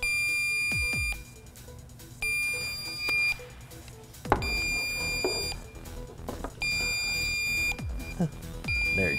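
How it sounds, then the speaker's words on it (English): An Accuprobe UV refrigerant leak detector emits long repeating high-pitched beeps in regular bursts, with someone talking underneath and a few thumps. "you can hear the, the instrument running and our beeping has changed from the slow, steady beep"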